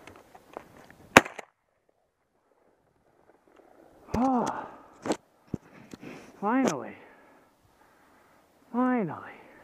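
A single sharp shotgun blast at a rabbit during a hunt, fired with Federal 7.5 or Remington number 8 shot, cracks out briefly amid quiet field ambience, followed by scattered clicks and voices talking.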